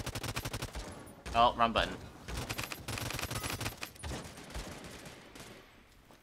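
Pistol fire in the video game Realm Royale: a quick string of sharp, closely spaced shots with short pauses, close and punchy, while someone talks over the shooting.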